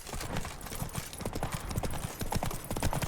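Roach, the horse in The Witcher 3, gallops with a rapid steady clip-clop of hooves throughout, loud and close, over a noisy game backdrop.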